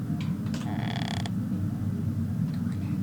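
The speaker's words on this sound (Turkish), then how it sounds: "Kapıyı açıyor." Door in a Hello Neighbor mod game creaking open, a short drawn-out creak of about half a second over a steady low hum, followed by quiet.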